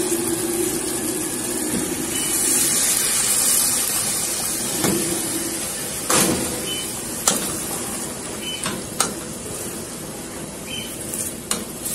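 Water poured into a hot pan of browned pork stew with maxixe hits with a loud hiss and sizzle that gradually settles to a bubbling simmer, punctuated by a few clinks of utensils.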